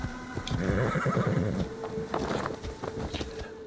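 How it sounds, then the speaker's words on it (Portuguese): A horse neighs loudly in Assassin's Creed Valhalla after being called, a whinny with a shaky trill, followed by a few hoof clops and snorting nearby. "Chamar o pangaré agora."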